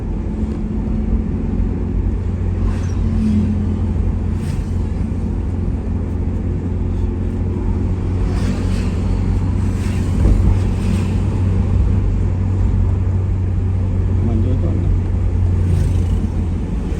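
Slow road traffic in a jam on the road toward Kendari in Bone, heard as a continuous low engine rumble and hum from nearby vehicles, with faint passing sounds and no talk.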